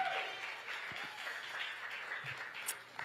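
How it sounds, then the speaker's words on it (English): Applause from an audience for Reverend Jesse Jackson Sr. at a Chicago event, faint and distant, a thin patter of clapping with a low hum underneath. "Another round of applause, y'all, for Reverend Jesse Jackson Sr."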